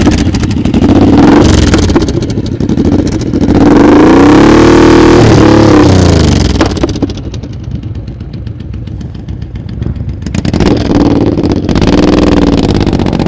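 A motorcycle engine held under steady throttle during slow-speed riding practice, loud and close, its drone swelling and dipping in pitch as the bike circles, with no voices.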